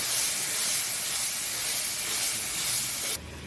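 Chili and turmeric paste mixed with water hits hot frying spices in a pan with a loud, continuous steamy hiss that cuts off abruptly near the end.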